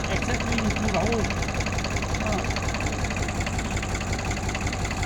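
A tractor engine idles with a steady low rumble and faint knocking, close by and continuous, while a person talks over it.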